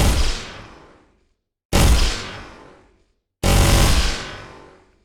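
Three loud, separate gunshots from a first-person shooter built in Unreal Engine 5, each a sharp bang with a long decaying tail, spaced evenly about two seconds apart.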